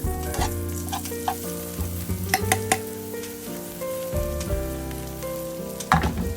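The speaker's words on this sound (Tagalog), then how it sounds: "I-saute natin." Mung bean dish sautéing in a pan, a constant close sizzle with occasional utensil clinks from stirring, over faint background music.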